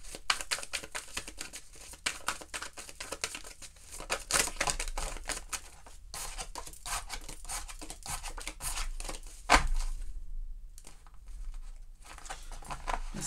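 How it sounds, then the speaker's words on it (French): Tarot cards being shuffled, a close, continuous papery riffling and flicking with irregular bursts and short gaps. "On va bien mélanger les cartes."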